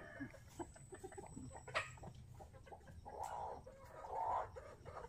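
A hen and her chicks cluck and peep softly while being fed grain, scattered faint calls with a couple of louder clucks, quiet and fairly close, no talking.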